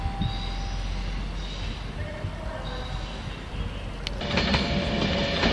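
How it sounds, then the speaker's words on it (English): Train 956 pulling out of Crewe for London, a moderate rolling rumble with faint tonal whine and rail clatter, growing louder and busier toward the end as it passes close. "Off goes 956 to London now."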